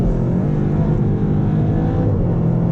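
A 2019 SEAT Leon Cupra in sport mode with its gearbox shifted manually, the engine pulling hard under acceleration with a steady, loud, close drone and no talking.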